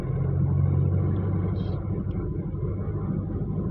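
Car engine droning low and steady while driving, the hum swelling slightly early on and then settling into an even rumble with faint road noise.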